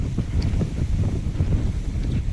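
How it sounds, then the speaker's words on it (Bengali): Strong stormy wind gusts outdoors among swaying grass and trees, a steady loud low rumble of wind buffeting the microphone throughout with no voices. "আজকের কিন্তু প্রচন্ড হারে ঝড় হচ্ছে"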